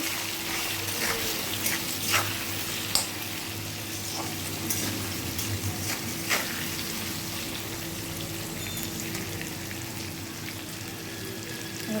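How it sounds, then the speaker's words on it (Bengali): Potatoes frying with salt and turmeric in a pan, a steady low sizzle and crackle running throughout with a few brief sharper spits and clinks, close and even, no voices. "তারপরে নুন হলুদ দিয়ে দিয়েছি। একটু ভালো করে ভেজে নেব।"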